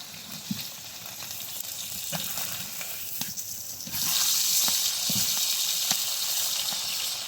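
Fish sizzles steadily in hot oil in a wok, with a continuous hiss that grows louder partway through. Occasional soft clicks and taps sound over the frying.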